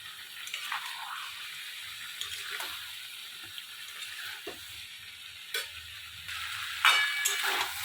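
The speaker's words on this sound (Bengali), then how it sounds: "এঁচুরটা আমি দিয়ে দিলাম ভালো করে কষে নেবো" Boiled raw jackfruit being sautéed in a pan, a soft continuous sizzle broken by stirring scrapes and clinks, with a louder splashing burst near the end, no voices.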